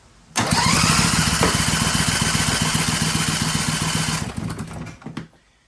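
A Briggs and Stratton 18 HP Vanguard engine cranks loudly on its starter with a rapid, rhythmic chugging for about four seconds, then sputters and winds down.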